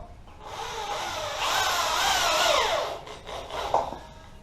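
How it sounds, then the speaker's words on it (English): A power drill drives screws into a wall while a garage shed door is being built, motor whining up through a sustained, rising drive for a couple of seconds before slowing and cutting off, close and clear. "now we'll screw this into the wall here."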